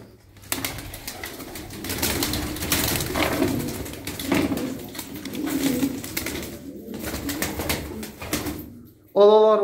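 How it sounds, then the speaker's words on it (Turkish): Turkish tumbler pigeons coo softly in a loft, repeated throaty burbling calls over a busy background of wing flaps and shuffling, ending with a brief sharp sound. "Kuşlarımız güzel arkadaşlar."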